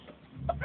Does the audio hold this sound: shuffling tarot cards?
no